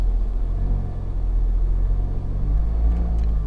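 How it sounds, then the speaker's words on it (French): Mercedes CLA engine revving with its exhaust valve closed, a muted low rumble that swells slightly, steady and fairly quiet throughout. "Donc là, il est en valve fermée. Donc si j'accélère, ça va pas faire beaucoup de bruit."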